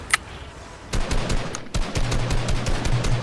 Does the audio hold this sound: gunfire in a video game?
yes